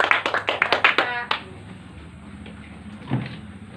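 Classroom students clapping for a presenting group in a history lesson, a short burst of roughly eight rhythmic claps close by, then quiet room noise with a soft thump.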